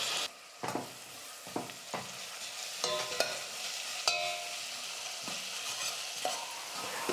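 Onions and curry leaves fry in hot oil with a steady, soft sizzle, broken by intermittent scrapes and clacks of a spoon stirring the pan, with no voices.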